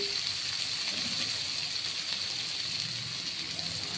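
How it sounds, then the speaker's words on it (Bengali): Flattened rice pulao fries with sugar in a pan, giving a steady, even sizzle that holds at one level throughout, with no talk over it. "দুই চামচ চিনি দিয়ে এটা ভাজবে"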